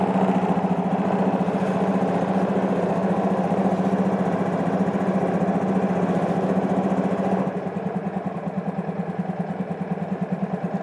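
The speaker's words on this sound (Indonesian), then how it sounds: "Kemudian kita nyalakan sepeda motor" A motorcycle engine idles steadily in a vocational school workshop during a fuel pump pressure test, a close, even rumble that drops slightly in level and steadies near the end, with no talk.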